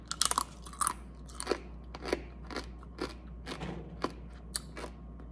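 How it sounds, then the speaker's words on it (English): Homemade turkey meat chips crunched between the teeth, a series of sharp, crisp bites and chews close up, irregularly spaced over several seconds with no talking. "I have a good amount of chips that taste great. They have great crunch."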